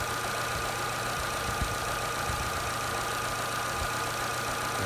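A Jeep Renegade engine idles steadily with everything switched on, giving a constant low hum and a faint whine that hold at an even level throughout, with no speech.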